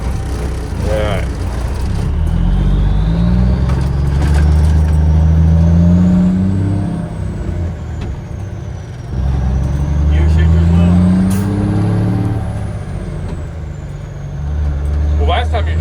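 A Peterbilt cabover truck drives along with a loud, heavy diesel drone that rises and dips twice as the gears are shifted, with a whining tone climbing above it and people talking in the cab.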